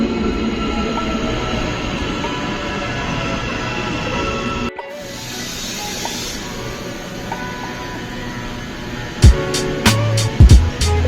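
Interior of a moving train, a steady loud rumble and hum of the carriage that briefly drops and shifts midway, with a few sharp clicks and knocks near the end.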